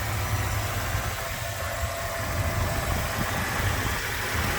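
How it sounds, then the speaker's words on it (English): A stock 1995 Ford F150 XLT 4x4 with a 5-liter fuel-injected engine idles in a steady, close, continuous rumble, with a faint power steering pump whine under the engine noise. "Power steering pump's making a little bit of a whine."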